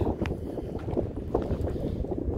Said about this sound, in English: A little windy today too.